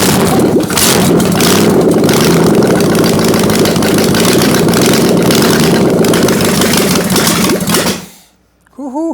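A 1968 Camaro with a 327 small block Chevy V8 runs loud and close with the timing only roughly set, a steady throbbing idle with slight surges, then it cuts off and a voice follows briefly.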